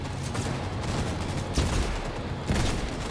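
Revolver fire in the video game Cyberpunk 2077 comes as a couple of heavy booming shots spaced about a second apart over a constant layer of game noise and music.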